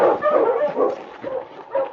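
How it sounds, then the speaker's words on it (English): A husky barks and yips repeatedly on a snowy Yukon trail, the close, loud calls coming in quick uneven bursts with brief pauses between them. "Then suddenly, King began to bark."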